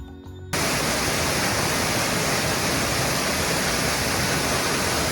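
A loud, dense roar of falling water fills the scene after a brief quieter moment, steady and unbroken like a nearby waterfall in Alabama.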